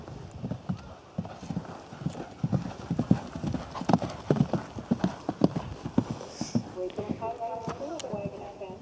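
Horses walk on a hard surface, their hooves clip-clopping in an uneven, close rhythm. People talk quietly over the hoofbeats, and a faint whinny comes near the end.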